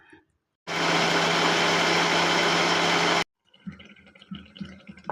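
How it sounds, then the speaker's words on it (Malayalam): A mixer grinder whirs loudly and steadily for about two and a half seconds as it grinds garlic and mango curry paste with water. It starts and stops abruptly, and softer handling noises follow. "ആവശ്യത്തിനുള്ള വെള്ളവും ചേർത്ത് നമുക്കിതൊന്ന് അരച്ചെടുക്കാം"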